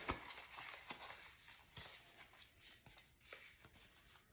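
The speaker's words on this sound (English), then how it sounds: "The lace gloves make shuffling especially challenging" Cards being shuffled by hands wearing lace gloves, a quiet run of soft riffling and tapping bursts with short pauses between them and no voices.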